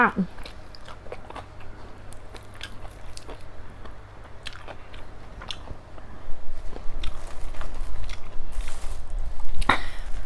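Crunchy, close-up chewing and biting of a Thai mok bamboo shoot dish, repeated crisp bites and mastication over a low background hum, with brief voice sounds mixed in.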